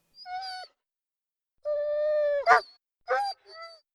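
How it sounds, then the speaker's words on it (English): A dog whining sound effect in an Unreal Engine 5 petting tutorial: three or four separate high, tonal whimpers and cries, clear and close, with a short rasping break in the middle and silence between them. "And you might think, why is the dog crying?"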